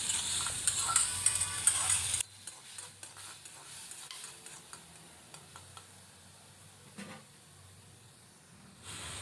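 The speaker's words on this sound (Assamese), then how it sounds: "সেইখিনি পিঁয়াজ মই যেতিয়ালৈকে ৰঙা নহয় তেতিয়ালৈকে মই ভাজি থাকিম" Onions and ginger-garlic paste fry in a pan for a brinjal masala curry. A bright sizzle and stirring clatter for the first two seconds drop to a quieter crackle with scattered spoon clicks.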